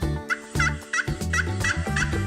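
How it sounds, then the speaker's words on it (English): A turkey gobbles in several rapid rattling bursts, clear and close, layered over a light music backing. "This is a turkey."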